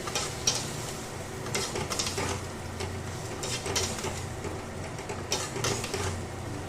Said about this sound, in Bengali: সাতলে রাখা চিংড়ি মাছ আর ঢ্যাঁড়স দিয়ে খুব ভালো করে এটাকে আমি কষিয়ে নেব